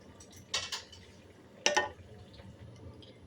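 A metal lid set on a pot of tangra fish curry cooking with vegetables, giving two sharp clanks about a second apart against a quiet kitchen background.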